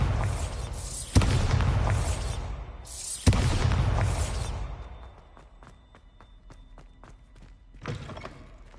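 Two booming blasts from the Bombarda explosion spell in Hogwarts Legacy, each a sudden loud impact with a rumbling decay, followed by scattered light clicks and a softer thud near the end.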